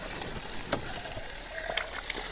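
Water gushes out of a Dipjyoti Jivamrut double filter system on a farm, a steady close rush of flow with a few brief splashy spikes.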